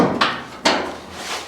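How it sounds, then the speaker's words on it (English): A 1967 Camaro door under restoration is opened and closed, giving two sharp, close knocks of latch and metal panel about half a second apart over a quiet background. "doors open and close."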